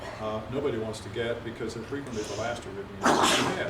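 Partway through a cardiology lecture on ventricular arrhythmias, a single sharp sneeze bursts out near the end, loud against the steady talking voice.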